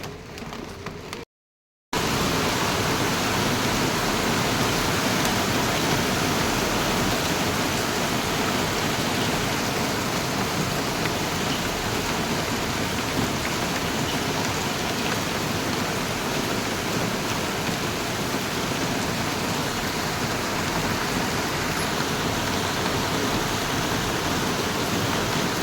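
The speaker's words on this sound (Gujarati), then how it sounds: "જો અચાનક વરસાદ આવવા માંડ્યો ને વાતાવરણ કેવું થઈ ગયું," Sudden heavy rain pours down in a steady, dense roar that fills the scene for about 25 seconds after a brief gap, with no talking over it.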